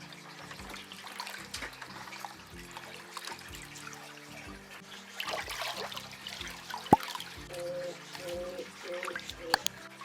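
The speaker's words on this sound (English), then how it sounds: "I just rub my hands on the sponges and then try to like squeeze water through them" Water squeezed by hand through Fluval FX4 aquarium filter sponges, close wet squelches and trickles in uneven bursts with occasional drips, no talk.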